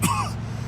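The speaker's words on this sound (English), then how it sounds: "Every time I cough, it feels like I'm being stabbed in the chest." A male character in the crime video game Mafia II, hurt with suspected broken ribs, gives a single short, rough cough or throat clearing, close and fairly loud, over a low steady engine-like hum.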